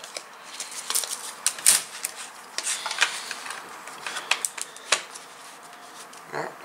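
Apple iBook G4 laptop being reassembled, its keyboard and card cradle fitted back in: a run of small plastic clicks, taps and snaps at close range, irregular and sharp, with quiet pauses between.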